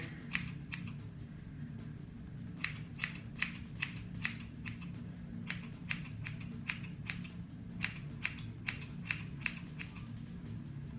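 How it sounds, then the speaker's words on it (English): Scissors snipping hair to cut an emo fringe during a home lockdown haircut: crisp, close metallic snips in quick irregular runs over a low steady background hum. "is to go in with scissors first"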